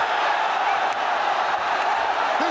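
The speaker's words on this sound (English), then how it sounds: "This crowd is crazy." A dense arena crowd at a ONE Championship fight roars in a steady, loud wash of cheering that holds level throughout, with no break or single standout voice.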